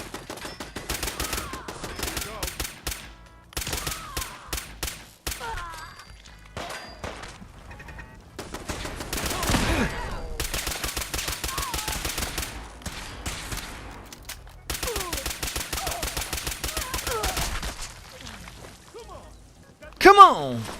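Semi-automatic rifle fire in a survival video game, rapid trains of sharp shots in several bursts separated by short pauses, with a voice talking over parts of the firing.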